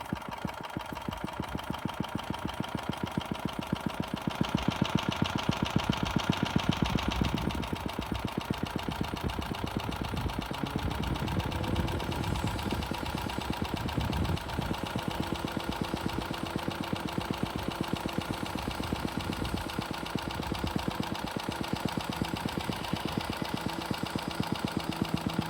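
Vintage Craftsman lawn mower engine, rescued from scrap, idling low and steady with a rapid putter and a slight knock, briefly louder for a few seconds early on, running alone without voices.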